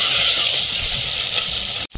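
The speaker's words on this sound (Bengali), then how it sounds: "মশলাটা ভালোভাবে কষিয়ে নিচ্ছি মাটির হাঁড়ির মধ্যে" Spice paste of black cumin, onion, tomato and green chilli fries in a clay pot, giving a steady, close, hissing sizzle that cuts off abruptly at the end.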